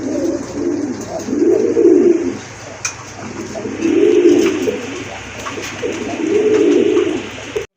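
Male pigeons in a loft of fancy breeds such as Lahori, satin and blacklace, cooing in three long, swelling bouts with brief pauses between them. The cooing is close, loud and unaccompanied by speech, over a steady low hum.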